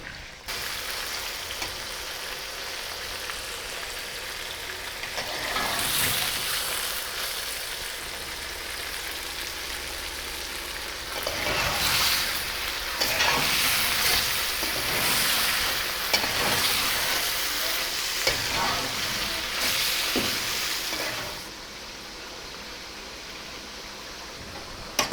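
Chicken roasts with spices in a karahi, giving a continuous loud sizzle with swells and repeated stirring scrapes over about twenty-five seconds, with no voices.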